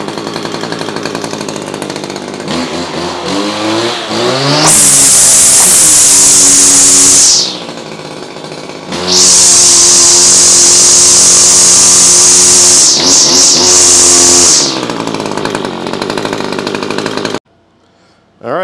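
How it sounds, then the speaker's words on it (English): A Kawasaki KGT27C string trimmer engine, rescued from curbside trash, runs loud and close, revving to a high whine in two long bursts separated by lower idling, then cutting off near the end. "We got this Kawasaki trimmer at the curb."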